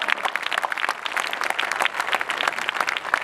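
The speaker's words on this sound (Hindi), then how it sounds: "एक बार जोरदार तालियां" An audience at a Hindi poetry recital claps steadily and densely, the applause filling the whole stretch without a break and with no one speaking over it.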